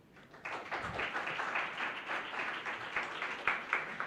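Tech summit audience gives a speaker a steady round of applause, a dense wash of many hands clapping continuously at moderate distance with no talk over it.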